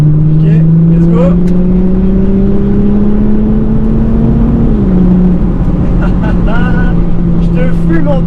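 A boosted Audi A5 3.0 TDI diesel accelerates hard, its engine tone rising steadily and then dipping as it shifts, loud and close inside the car, with people talking over it near the end.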